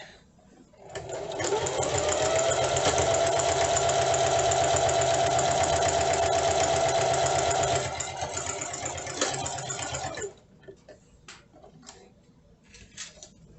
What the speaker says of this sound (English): I just use my sewing machine